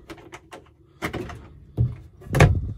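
A pull-out storage rack in a 2001 Dynamax Carri-Go 2310 Class B Plus motorhome slides open with a few short sliding rattles and soft knocks, ending in a firmer bump as it reaches full extension.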